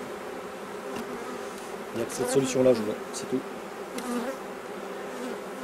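Honeybees from a failing spring colony, about to be shaken out so other hives take them in, drone in a dense, steady buzz that swells mid-clip while someone speaks French over it.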